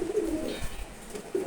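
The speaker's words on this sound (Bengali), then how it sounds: "এখানে সবগুলো নর কবুতর" Male racer pigeons coo in a short, close, soft rolling sequence with a brief pause in the middle, and no voices over it.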